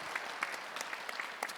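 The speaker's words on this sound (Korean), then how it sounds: "우리 박수로 한번 환영하시겠습니다" Church congregation applauding to welcome a guest at a Sunday service, a faint, steady patter of scattered claps with a few sharper hits.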